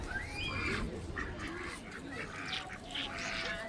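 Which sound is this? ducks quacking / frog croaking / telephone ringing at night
ducks quacking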